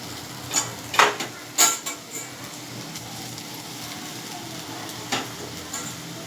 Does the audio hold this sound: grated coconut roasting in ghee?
yes